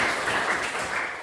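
Classroom students clapping for a classmate's correct answer during a lesson, with a short, dense burst of steady applause that stays loud throughout and then tapers slightly.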